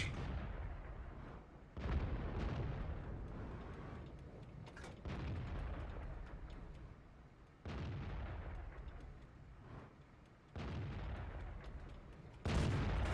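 Heavy tank cannon shots from an AMX CDC in World of Tanks boom at intervals, each sharp blast followed by a long rumbling tail, with steady engine noise between.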